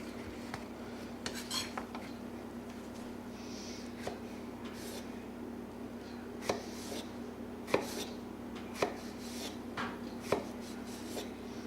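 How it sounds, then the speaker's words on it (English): A knife repeatedly strikes a cutting board as zucchini is sliced into long strips, sharp irregular taps with a steady background hum, no voices. "The zucchini for this recipe will be cut into some long strips."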